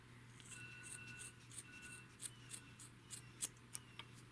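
Scissors snip crocheted yarn on a sock monkey, a run of quiet, sharp clicks that grows a little louder toward the end. A faint steady hum sits underneath, and no one speaks.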